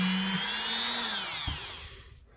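Power tool with a buffing pad working rubbing compound onto an old rusty knife, a brief whining spin that rises and slowly falls away, alone and close.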